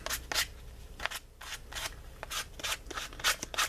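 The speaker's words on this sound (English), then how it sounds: "and then with some fine sandpaper" Fine sandpaper rubs back and forth on a model flying wing part, making close, steady, rhythmic scratchy strokes with brief pauses.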